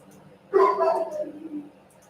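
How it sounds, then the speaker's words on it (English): A dog outside, walking past the front of the house, gives one short bark that trails into a whining yelp, muffled and moderately distant against a quiet room. "Must be a dog walking by out front."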